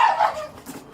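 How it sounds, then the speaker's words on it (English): A police dog barks once or twice nearby during a tactical entry, giving a short, rough burst that quickly fades into quiet background. "Let's run the dog so you're good."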